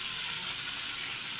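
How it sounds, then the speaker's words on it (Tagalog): Food frying in a pan at home, a steady close sizzle and crackle of hot oil running continuously without talk. "Hirap mag-prito."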